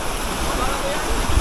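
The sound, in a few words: rushing river current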